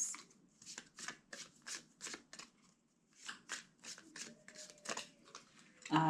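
A deck of tarot cards is shuffled by hand in repeated quick riffles and soft slaps, close and crisp, with short pauses between bursts.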